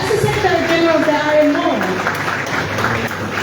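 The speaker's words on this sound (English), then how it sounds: "Please give him a round of applause." An audience at the 8th Association of African Maritime Administrations Conference in Monrovia claps in a brief round of applause, while a speaker's voice carries over it from the podium.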